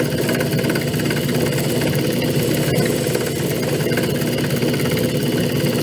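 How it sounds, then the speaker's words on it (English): A Childs & Company 4-inch metal lathe runs steadily, its motor and gearing giving a continuous mid-pitched mechanical drone with faint vibration, close and even throughout with no talking. "This thing will really take some metal off pretty fast if you want to."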